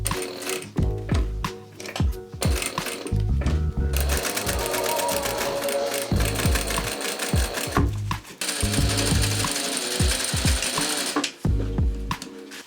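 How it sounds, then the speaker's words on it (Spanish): Sewing machine stitching fabric panels for a homemade bikepacking stem bag, running in loud steady bursts of rapid mechanical clatter separated by short pauses, with no voice over it. "Cosemos la cara A y la cara B al rectángulo grande de la step bag."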